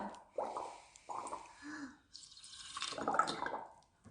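Air blown through a straw into a tall glass of water, giving soft bubbling gurgles in a few bursts, the longest near the end, faint and close.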